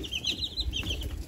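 Chickens clucking on a farm among Cornish birds being raised, a few soft, close clucks and murmuring calls in a short stretch with no talking.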